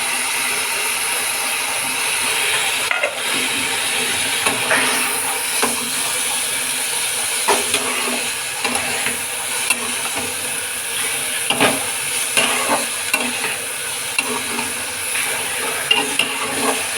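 Bitter gourd (kakarakaya) fries in a pan with a steady, close hiss and sizzle, broken by occasional scraping stirs and light clicks, and no talking over it.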